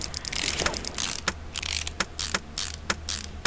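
Rapid ratcheting clicks from a wrench removing bolts on a Ford Mustang RTR in Car Mechanic Simulator 2018, in repeated bursts of whirring ratchet with short pauses between them, loud and up close.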